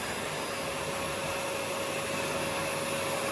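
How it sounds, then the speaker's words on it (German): A vacuum cleaner runs with a steady, loud motor whine and rushing airflow while a pitbull plays with it, the hum holding evenly throughout with no voices. "Mach mal den Staubsauger nicht kaputt."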